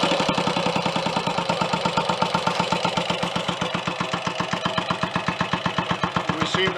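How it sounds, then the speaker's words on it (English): A freshly serviced Royal Enfield 250 motorcycle engine idles steadily with a slow, even, thumping rhythm, close and clear, with no talking. "We seem to have quite a good, steady, slow tick over, good throttle response."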